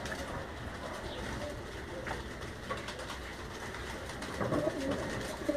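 Pigeons, including Lala Ji Ali strain birds, cooing on a rooftop in Gujrat amid a steady wash of outdoor background noise, with soft low coos surfacing now and then and a slightly busier stretch near the end.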